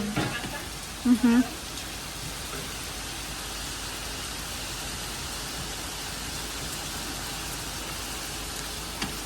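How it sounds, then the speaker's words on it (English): Heavy rain pours outside a new apartment as a steady, dense hiss of falling water that continues unbroken, with a brief louder knock near the start. "But it's raining really hard, actually."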